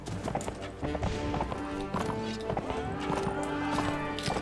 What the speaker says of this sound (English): my sumpter horse is, like, really bad at that